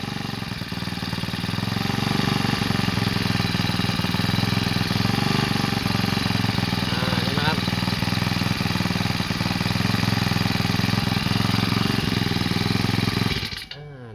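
A grass trimmer engine running on hydrogen gas runs loudly and steadily at a constant buzzing pitch, close by, before abruptly cutting out near the end.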